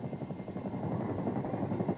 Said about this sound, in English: The Army's heavy-duty helicopter, the CH-47, known as the Chinook